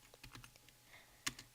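Close, quiet typing on a computer keyboard while entering C++ code, a quick flurry of light key taps followed by a pause and then one sharper keystroke.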